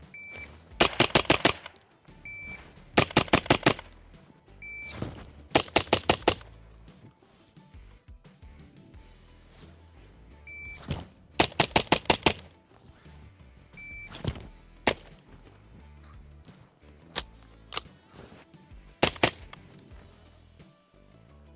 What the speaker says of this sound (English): overall, very, very soft shooting with a can on it